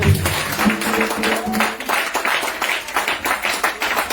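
A church congregation claps steadily and densely at a French-language worship service, the applause filling the whole span with an even, close texture and brief vocal sounds mixed in.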